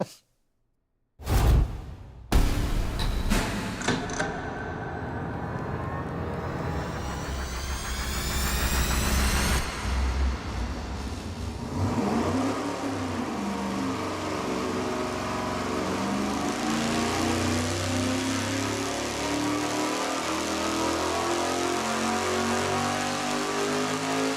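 A V8 engine on a dyno, in a small block versus big block comparison making close to 500 horsepower, roars loudly and continuously under load after a brief silence, its pitch climbing as revs build and then holding steady.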